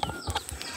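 A chicken gives a few quick, close clucks in under a second, with no one talking over it.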